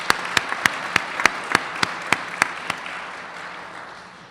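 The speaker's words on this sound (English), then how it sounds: "let's give them a round of applause" An audience at a Hall of Fame induction ceremony applauds steadily, with a run of sharp, evenly spaced claps standing out over the wash of applause before it gradually fades.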